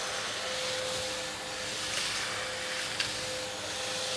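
A Nilfisk Easy cordless stick vacuum runs in turbo mode with a steady, loud motor whine and rushing airflow, close and continuous throughout.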